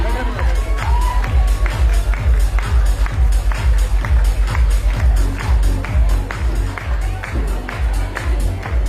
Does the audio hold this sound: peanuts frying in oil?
no